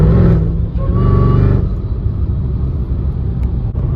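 A 640hp Mercedes E55 AMG supercharged V8 revved at quarter throttle, a loud close low rumble that swells briefly, then settles into a steady deep idle burble, no voices.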